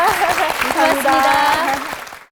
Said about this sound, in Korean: 오은영 박사님께 큰 박수 보내주시기 바랍니다